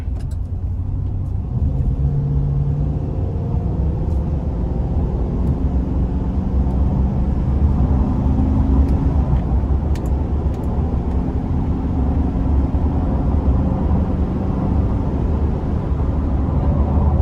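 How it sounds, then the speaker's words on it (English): A GMC conversion van under light throttle while merging onto an interstate, giving a loud continuous low rumble of engine and road noise that holds fairly even and slowly builds, with no talking. "We're gonna give it a little throttle here just to see how it moves, merging on the interstate."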